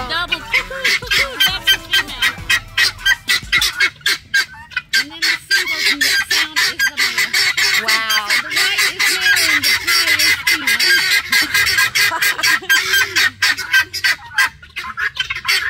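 Guinea fowl call repeatedly and loudly up close, harsh rhythmic cackling that mixes double-note female calls with single-note calls, with someone talking faintly underneath.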